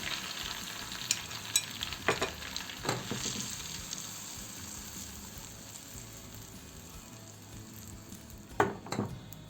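Chili flakes and ground red pepper sizzle in hot oil, a steady soft frying hiss with a few brief stirring clicks and scrapes, heard close and alone.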